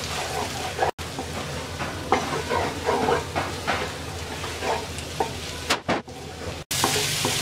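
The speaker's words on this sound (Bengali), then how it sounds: "এবার ডিমটাকে ভালো করে মিশিয়ে দিচ্ছি।" Two eggs being stirred into okra frying in a pan, a continuous moderate sizzle broken by repeated spatula scrapes and short clattering strokes, with no talking.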